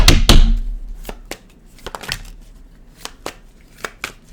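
Cards being shuffled up close: a burst of riffling followed by a series of sharp, irregular flicks and taps.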